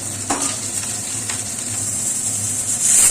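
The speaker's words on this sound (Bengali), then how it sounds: "এই যে আমার চিংড়িগুলো লাল লাল করে ভাজা হয়ে গেল" Prawns frying in mustard oil, a loud close sizzle with faint stirring scrapes running continuously without talk.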